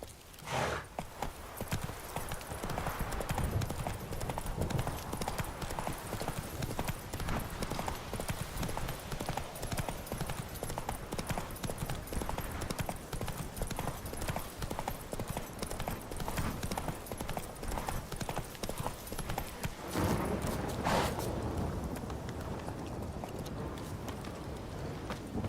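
In The Witcher 3: Wild Hunt, horse hooves gallop in a steady, fast rhythm for the whole stretch, fairly faint and without speech, the drumming briefly changing near the end.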